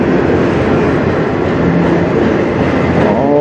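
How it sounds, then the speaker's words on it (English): A freight train with auto racks rumbles past loudly and continuously, with a steady roar of wheels on rails and faint clatter, no talking. "This will be the train."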